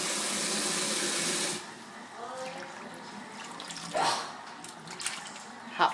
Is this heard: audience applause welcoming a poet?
no